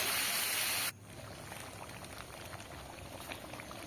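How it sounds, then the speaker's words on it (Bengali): Water left from rinsing spices is tipped into a pan of chicken curry, a loud steady rush at first that drops into a softer, continuous bubbling sizzle as the liquid hits the hot masala. "এবার মশলা ধোয়া জলটা দিয়ে দেব, দিয়ে ভালো করে এবার কষিয়ে নেব।"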